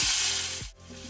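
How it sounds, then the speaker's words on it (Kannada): Garlic, ginger and curry leaves sizzle in hot oil, a steady close frying hiss with a few stirring scrapes, no voices. "ಸ್ವಲ್ಪ ಫ್ರೈ ಮಾಡ್ಕೊಳ್ಳುವ. ಬೆಳ್ಳುಳ್ಳಿ ಲೈಟ್ ಕೆಂಪಾಗಲಿ."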